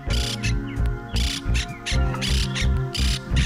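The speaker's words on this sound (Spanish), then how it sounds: "Los pájaros. Las cotorras que volvieron." Parakeets squawk in harsh, rhythmic bursts, about seven loud calls in quick succession, close and clear with no talking.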